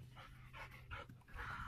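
An Old English Sheepdog pants and huffs in short, soft breathy bursts, heard quietly indoors with no clear bark standing out.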